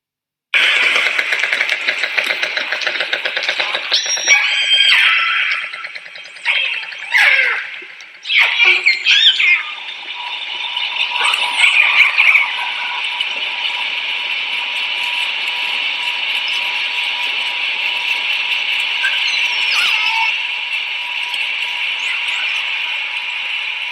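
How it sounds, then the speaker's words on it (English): Underwater in Monterey Bay, a passing ship sends a steady mechanical hum and tonal drone through the water, preceded by a burst of clicks and whistling calls from a pod of orcas, the ship noise persisting loud and continuous. "Now, listen to what it sounds like when a ship passes a pod of orcas."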